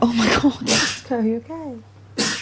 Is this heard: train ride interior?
no